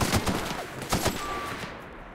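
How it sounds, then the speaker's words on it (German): Gunfire in The Outer Worlds video game: a rapid burst of several sharp, loud shots in quick succession, followed by fading reverberant echoes. "Drei Schüsse bloß und dann war vorbei?"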